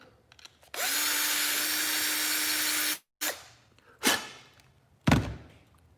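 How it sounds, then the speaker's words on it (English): A handheld drill fitted with a countersink bit runs in one steady high whine for about two seconds while deburring metal tubing, followed by a few sharp knocks and thuds nearby. "Just a countersink bit on a drill."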